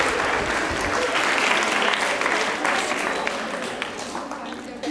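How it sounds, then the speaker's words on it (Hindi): Audience applause at a Hindi college quiz show with teams from Tagore Girls and Bhawani Niketan colleges, a dense, steady wash of clapping from a large crowd that fades slightly toward the end. "तालियां बजाइए जोरों से आपके लिए।"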